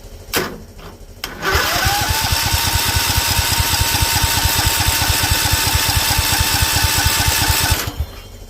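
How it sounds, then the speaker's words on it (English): A 2004 John Deere L110 lawn tractor engine cranks on its starter for about six seconds, with a loud, close, rapid, even chugging under a rising then steady whine. It stops abruptly with no talk. "I've got to see if this push button actually turns this thing over"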